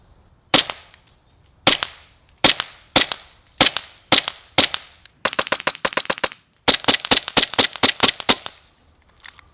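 An M870 Breacher airsoft shotgun fires sharp, loud cracking shots, first spaced singly, then in fast rapid bursts with brief pauses between them.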